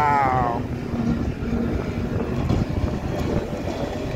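Offshore circuit racing speedboats at a Liverpool race roar past at speed. A loud, steady engine drone carries wind buffeting across the microphone, and there is no talk.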